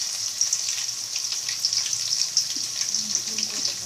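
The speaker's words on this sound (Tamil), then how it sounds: "இப்போ நம்ம வெங்காயத்தை போடுறோம். அடுத்து பச்சை மிளகாய்," Onions and green chillies frying in a pan for rava upma, a steady close sizzle with faint crackles throughout and no talk.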